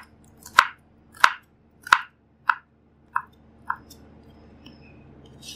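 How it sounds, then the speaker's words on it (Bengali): A knife chops coriander leaves on a board in six sharp, evenly spaced strokes. The strokes are loud at first and grow softer toward the end, with a quiet room behind them. "ধনিয়া পাতাগুলো আমি টুকরা করে কেটে নিচ্ছি।"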